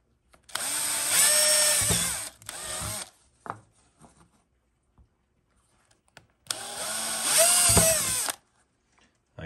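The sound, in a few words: drill drilling into air filter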